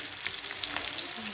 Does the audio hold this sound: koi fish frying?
yes